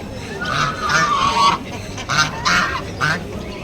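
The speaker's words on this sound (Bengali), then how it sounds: "রাজহাঁস দেখো দক্ষিণেশ্বর হাটে তোমরা কিন্তু রাজহাঁস পেয়ে যাবে" Geese honk at the Dakshineswar bird and animal market in repeated nasal calls, several bursts in quick succession with short pauses between them, close and fairly loud over a steady market murmur.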